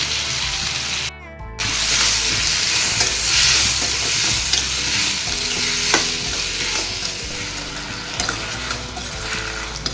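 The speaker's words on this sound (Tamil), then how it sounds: "வெங்காயம் தக்காளி கொஞ்சம் வதங்கிடுச்சு" Onions and tomatoes sauté in a pan for an egg masala, giving a loud, steady sizzle with stirring scrapes throughout, broken briefly by a short gap near the start; no one speaks.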